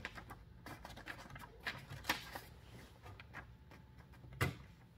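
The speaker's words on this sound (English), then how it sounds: "With uh, this lever on the right, you adjust the sheet of paper." A 1914 Olivetti M1 typewriter has its paper sheet adjusted with the right-hand lever, giving close, quiet mechanical clicks, slides and rattles scattered irregularly, with a couple of sharper clacks.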